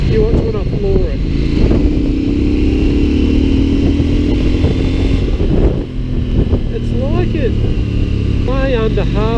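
A CF Moto MT800 Explore motorcycle rides at full throttle, its engine droning loudly and continuously under strong wind buffeting, with someone talking over it.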